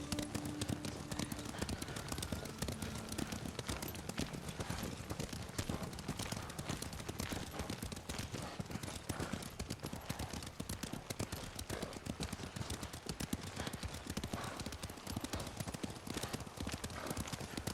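Horse hooves clip-clop steadily and continuously at a brisk, even pace in Ghost of Tsushima, close and fairly loud over a low ambient bed, with an occasional faint whinny.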